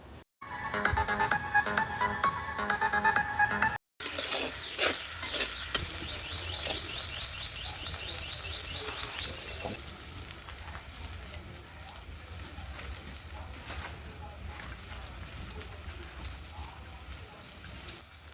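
Ginger, garlic, green chilli and curry leaves sauté in a pan for a neymeen fish curry, a steady crackling sizzle that runs throughout, louder at first with a short break, under faint talk.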